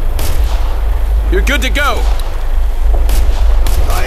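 Combat gunfire in Operation Flashpoint: Red River, repeated sharp shots and rumbling battle noise over a loud background while a voice speaks briefly in the middle.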